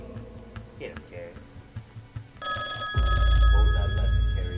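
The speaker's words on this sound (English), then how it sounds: "The phone's ringing." An old-style telephone bell rings loudly with a sustained metallic ring, entering suddenly after soft thuds and movement, with a low rumbling tone underneath.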